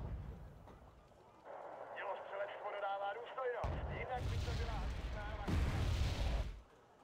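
Mortar fire in an online video game, heavy booming blasts and rumbling impacts rolling in over several seconds, mixed with game noise and a voice talking.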